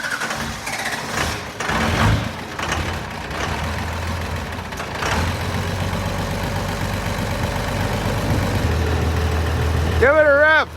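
A 12-valve Cummins diesel engine, just fitted with a new lift pump, runs at a steady low clattering idle after some starting noise, with people talking over it and a squealing sound near the end.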